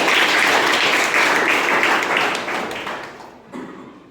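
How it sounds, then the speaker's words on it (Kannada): Loud applause from a crowd at a school prize announcement swells at once, holds thick and steady for a couple of seconds, then thins and fades, with a brief final burst near the end. "ಜೋರಾದ ಚಪ್ಪಾಳೆ."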